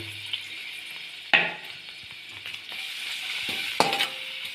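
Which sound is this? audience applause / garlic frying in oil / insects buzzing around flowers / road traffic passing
garlic frying in oil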